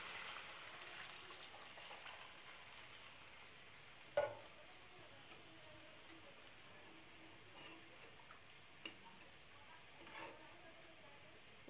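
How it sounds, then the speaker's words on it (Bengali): Dal being tempered with fried onions and chillies in a home kitchen gives a steady, faint sizzle throughout, broken by a sharp clink and a couple of small taps. "পেঁয়াজগুলো ভাজা হয়ে গেছে, এখন ডালটা ফোড়ন দিয়ে দেবো"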